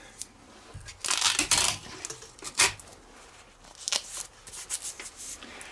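Adhesive tape pulled and wrapped around a 6-inch firework canister shell, a few short crackling rips and rustles close by, quiet and intermittent with gaps between.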